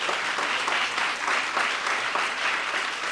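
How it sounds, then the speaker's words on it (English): An audience at a conference applauds in continuous clapping, close and loud, with a slight ebb and swell in intensity. "There was an applause."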